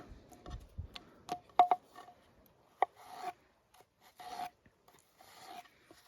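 A Ruike D198-PB folding knife chops small pieces on a board, giving sparse, quiet scraping cuts and a few sharp ticks at irregular intervals, close and isolated.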